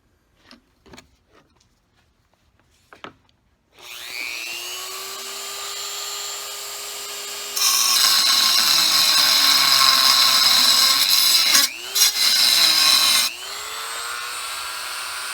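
An angle grinder bites into a metal car tailpipe after a few sharp clicks, whining steadily, then screaming louder and harsher while cutting, briefly dipping and recovering, then easing back to a steady spin.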